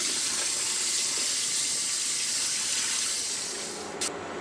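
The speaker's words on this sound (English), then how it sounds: "When the water runs clear, the rice has been rinsed." Tap water runs in a steady, even hiss while rice is rinsed in a bowl to wash off surface starch, continuous and fairly close with no voices.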